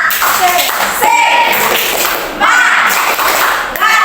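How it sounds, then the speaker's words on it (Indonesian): A classroom workshop group claps together in a quick rhythmic spirit-clap pattern, loud and close, with bursts of sharp claps and some voices mixed in. "Kalau semangat, tepuk semangat."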